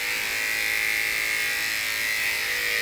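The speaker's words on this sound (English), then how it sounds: "So you'll take your clipper and you'll go up against the grain very gently" Electric clipper buzzing steadily and close as it shaves up against the grain on a cocker spaniel's chest, a continuous even whine with no talk over it.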